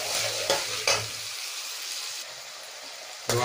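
Onion and curry leaves sautéing with salt in a pan, a bright sizzle punctuated by a few sharp stirring scrapes, fading to a softer hiss before one more stir.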